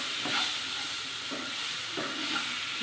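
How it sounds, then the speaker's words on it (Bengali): Chopped tomato and young corn sizzle in a pan for soup, with a spoon scraping through them in regular strokes about once a second over a constant frying hiss. "আমি একটা টমেটো কুচি করে দিয়ে দিলাম ভালো করে নেড়েছিলাম"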